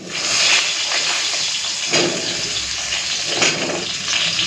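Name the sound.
eggplant added to hot oil with fried black cumin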